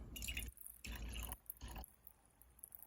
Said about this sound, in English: once you have emptied all your fruit into your container, you just want to add a little bit of water